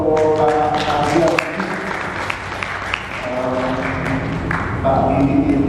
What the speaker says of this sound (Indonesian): Kita beri aplaus untuk Pak Dian.